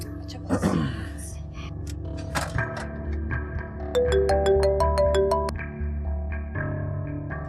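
A phone rings during an outgoing call in a Pakistani drama scene. The bright electronic ringtone melody of short stepped beeps rises to prominence mid-scene amid heavy background music and sound effects.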